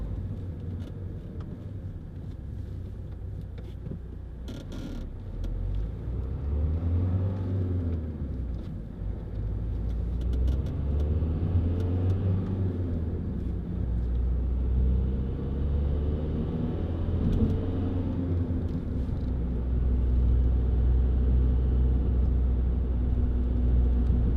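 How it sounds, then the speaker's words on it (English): A Vauxhall Zafira 1.9 CDTi 16v diesel engine drones steadily with low rumble, building slightly in loudness as it labors pulling up a hill, with no voices present. "Coming up that hill, you can tell how well this car pulls."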